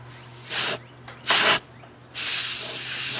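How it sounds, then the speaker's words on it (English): Compressed air can spraying in three hissing bursts, two short and one longer, loud and close, with a steady low hum underneath, while dusting a Tacoma dashboard and glovebox. "And a little bit of this compressed air."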